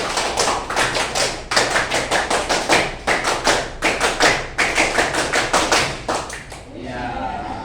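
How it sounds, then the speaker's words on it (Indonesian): Scout group clapping in the Pramuka rhythm, a long run of sharp, close hand claps in a quick patterned beat with short pauses, ending in a brief pause before a voice begins. "tepuk pramuka."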